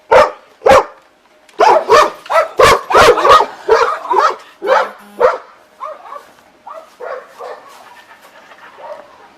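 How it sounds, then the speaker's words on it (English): Several dogs bark loudly near a yard during a police search, sharp repeated bow-wows in quick bursts, then fainter yips and whimpers trailing off, with no speech. "Sorry about the dogs."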